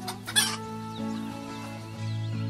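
Young chicks cheeping and clucking close by, a sharp loud peep at the start followed by softer sustained chirps and calls, quiet overall with no one talking.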